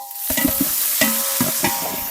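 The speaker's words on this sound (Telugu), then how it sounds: "ముత్తు మసాలాలు వేగిపోతున్నాయి" Onions with salt, turmeric, ginger garlic paste, mint and coriander frying in oil outdoors, with repeated close spatula scrapes and clanks over a steady sizzle, loud and rhythmic.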